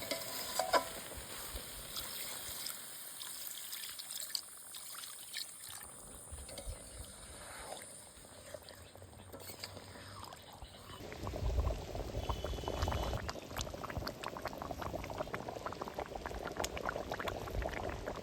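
Water poured into a pan of fish cooking in a drumstick leaf paste. A steady bubbling and sizzle runs throughout and grows louder and fuller in the second half as the liquid heats, with no voices.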